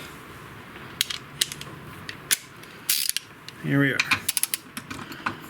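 Torque wrench ratcheting and clicking while tightening a suspension bolt on a 1994 Mazda Miata front end, sharp close mechanical clicks in bursts, with a brief spoken phrase partway through.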